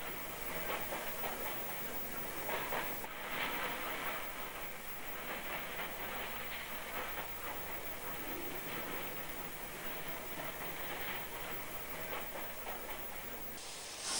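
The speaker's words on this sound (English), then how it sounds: "a dockboard tank was shunting in the distance" A steam dock tank locomotive shunts in the distance at the Liverpool docks in the 1950s or 1960s, giving a continuous hiss and faint rhythmic rail clatter with no voices.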